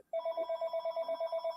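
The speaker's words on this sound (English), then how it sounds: "my wife will get that phone" A home landline telephone rings in a steady electronic trill, a rapid pulsing tone that starts abruptly and keeps going, clear and fairly loud indoors.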